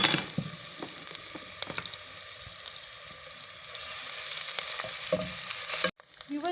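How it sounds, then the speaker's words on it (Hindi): Garlic and ginger paste sizzles steadily in hot oil, a close, continuous frying crackle with occasional stirring scrapes, cutting out abruptly near the end before resuming. "अब हम इसमें लहसुन और अदरक का पेस्ट डाल देंगे"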